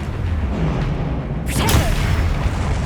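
Expelliarmus disarming spell cast in Hogwarts Legacy, a single sharp whooshing burst over a dense, steady game soundscape of rumble and ambience.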